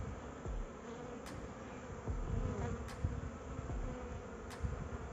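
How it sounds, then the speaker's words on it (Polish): A close, continuous buzzing hum of many honeybees covering hive frames fills the air, with occasional light knocks and clicks of frame handling in the background. "pszczoły na czarno obsiadają"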